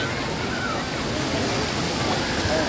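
Water pours down water slides at the Atlantis water park, a dense, steady rushing wash that fills the whole scene without pause.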